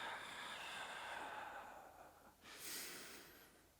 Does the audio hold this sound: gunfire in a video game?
no